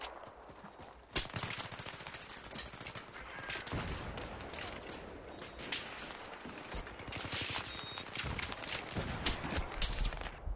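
Sustained suppressive gunfire from Battlefield 3 multiplayer combat, with dense rapid bursts and automatic weapon fire rattling continuously at high loudness across the whole stretch.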